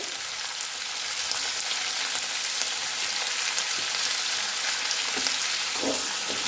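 Pieces of elephant foot yam fry in hot oil with salt and turmeric, giving a loud, continuous close-up sizzle with scattered crackles and stirring, with no talking.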